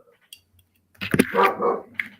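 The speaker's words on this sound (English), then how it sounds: "That's my dog." A dog barks at a house during a live sale of vintage goods: a faint yip first, then a loud close burst of barking and a growl, ending with one sharper bark.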